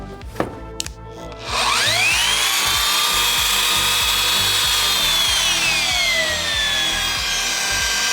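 After a few faint handling clicks, a Bauer drywall sander is switched on and its motor spins up into a loud, steady high-pitched whine that drifts slightly in pitch as it runs, close to the listener.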